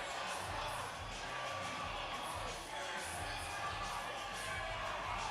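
A packed crowd at an MMA event roars and chants continuously, a dense wall of voices heard from within the arena with no breaks.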